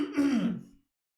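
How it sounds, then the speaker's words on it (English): A man clears his sore throat once, a short rough guttural rasp that rises and fades out within under a second, close and alone. "let me clear my throat again"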